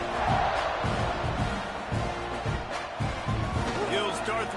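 Stadium crowd roar in the NCAA 26 college football video game during a kickoff, a dense, steady wash of cheering with rhythmic low thumps beneath it.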